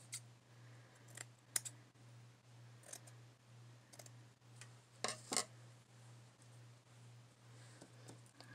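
Scissors snip through junk journal material in a handful of soft, separate clicks with longer quiet gaps between them, close by and faint over a steady low hum.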